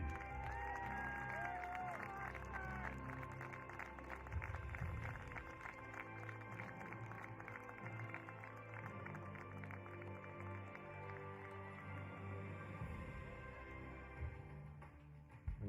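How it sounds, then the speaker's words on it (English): Crowd applause and cheering for young athletes at an archery youth festival, a sustained wash of clapping with some shouts, spread across a large outdoor or hall setting and continuing steadily before tailing off. "please give a warm round of applause for our athletes"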